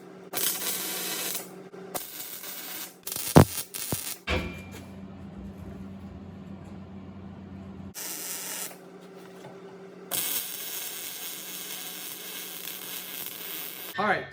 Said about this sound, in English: Next thing is to weld the uprights on to hold the top into position